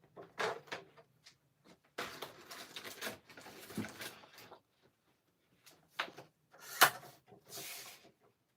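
A big, bulky paper trimmer slices through paper in several separate bursts of scraping slides and clunks close by, with quiet pauses between the cuts.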